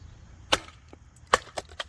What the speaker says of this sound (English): Oh my, it literally sheared this knot.